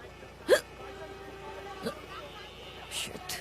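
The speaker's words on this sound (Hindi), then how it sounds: "हिचकियां?" A single sharp hiccup from a woman stuck in a car, loud and close, followed by a couple of fainter hiccup-like catches later in the moment, over steady low road hum.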